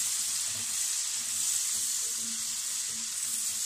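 Red, green and yellow bell peppers frying in a pan, a close, even sizzle with soft stirring underneath, steady and uninterrupted with no voices.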